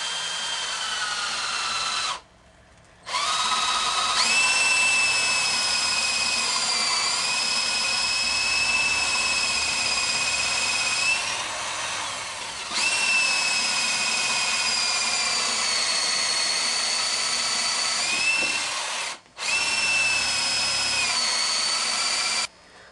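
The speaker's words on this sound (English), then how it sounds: "what I have here is a 1/2 inch drill bit, and we're going to put it right here in the center and go straight down" A power drill with a 1/2 inch bit bores straight down through a wooden board, a loud steady whine that runs for long stretches, briefly stops and restarts, with the pitch dipping slightly under load.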